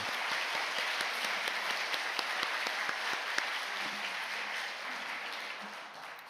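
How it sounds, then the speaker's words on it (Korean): A church congregation gives sustained applause, an even wash of many hands clapping at a fairly quiet level that fades slightly toward the end. "우리 박수로 하나님께 다시 한번 영광 돌리겠습니다."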